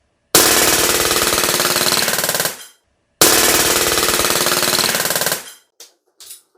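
A BB or airsoft gun fires a 30-round magazine on full auto, two loud, close, sustained rattling bursts with a short pause between them, then a few scattered single shots as it finishes.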